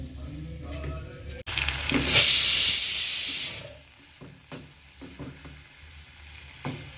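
Gongura sorrel leaves drop into a hot pan with a sudden loud hissing sizzle that holds for a couple of seconds, then fades to a quieter crackle with a few scattered utensil taps, no talking.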